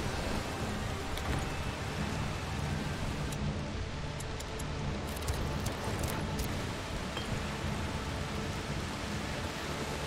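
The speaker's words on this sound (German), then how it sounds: "Aber ich kann den Regen leider nicht abstellen." Steady, dense video-game rainfall in A Plague Tale: Requiem, hissing without a break, with faint pattering on top and no voices.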